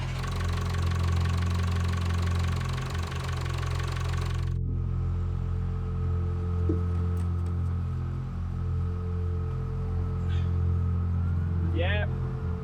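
Motor of a 42ft steel sailboat running at idle, a steady low droning hum with even harmonics that continues throughout, briefly mixed with broader noise at first and then settling into a cleaner idle.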